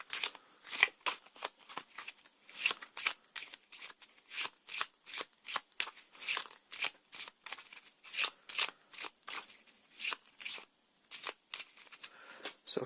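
Playing cards for the Arkham Horror card game being shuffled over and over, a steady run of crisp riffling bursts, close and fairly quiet, with no voices.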